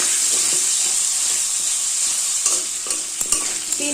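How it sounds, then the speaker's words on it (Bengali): Cut potatoes with turmeric fry in a pan over a medium flame, with a loud, steady hissing sizzle throughout and a few stirring scrapes and taps toward the end, with no voices. "গ্যাসের ফ্লেমটা মিডিয়ামে দিয়ে আলুটাকে একটু ভেজে নেবো"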